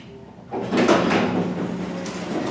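An Otis Lexan traction elevator's door slides open after a quiet start, giving a sustained rumbling whoosh close by that lasts to the end.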